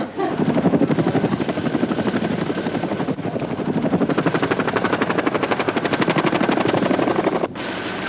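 Twin-rotor RAF Chinook helicopter flying, a loud, fast, steady rotor thump close by for the whole stretch.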